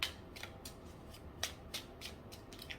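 Tarot cards being shuffled by hand, a run of quick papery flicks and snaps in uneven bursts, close by and fairly crisp, with no voices.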